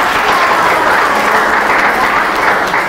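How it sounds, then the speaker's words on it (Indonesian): A classroom group gives loud, sustained applause, dense and steady throughout with no pauses. "Sekali lagi kita berikan tepuk tangan."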